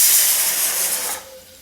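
Onions hitting hot sesame oil in a kadai give a sharp, loud hissing sizzle that burst out at once and then fades quickly within a second or two.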